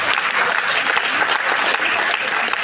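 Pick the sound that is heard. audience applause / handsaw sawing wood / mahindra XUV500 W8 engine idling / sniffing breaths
audience applause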